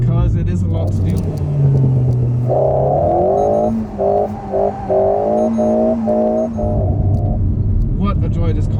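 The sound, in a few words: Alpine A110 S sports car driving on closed road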